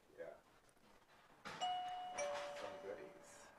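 Indoor doorbell chiming in a home during a live sewing session, two clear ringing tones that sustain and fade, heard under people talking.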